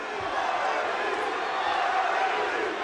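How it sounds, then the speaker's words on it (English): Crowd at an MMA bout between Cabbage and Butterbean, chanting the fighters' names: a loud, continuous arena roar of many voices with no pauses. "the crowd chanting both Cabbage and Butterbean"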